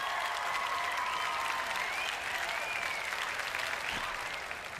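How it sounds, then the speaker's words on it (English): A round of applause on a talk show after a geek convention: dense, even crowd clapping holds steady throughout, with a faint tonal sound drifting above it. "a round of applause"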